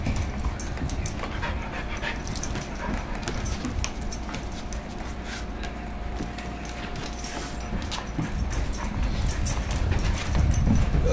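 A puppy panting rapidly close by, with whimpers and scrabbling sounds, continuous and fairly loud throughout.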